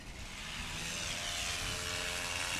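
A small plane called Warhorse runs up its engine for a short takeoff competition, a steady propeller drone that swells slightly.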